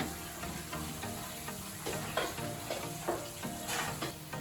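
Cream sauce for crab and shrimp pasta bubbles in a pan, a dense steady sizzling simmer with soft popping and occasional stirring sounds.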